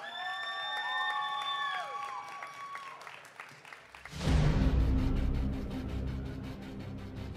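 Festival audience bursts into loud clapping and cheering for a StarCraft Protoss cosplayer at a cosplay show, rising abruptly after a stretch of tonal stage music and sustaining as a dense crowd roar.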